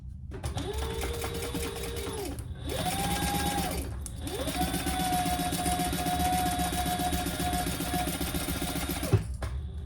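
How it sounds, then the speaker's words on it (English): A sewing machine stitches a seam on a small fabric beauty bag in three sustained close runs with a steady whirring motor, separated by brief pauses. "now let's sew that on with our full seam allowance"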